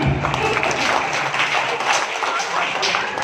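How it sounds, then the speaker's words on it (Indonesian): Short burst of applause from a village youth gathering crowd, steady continuous clapping with a voice speaking over it. "ya tepuk tangan."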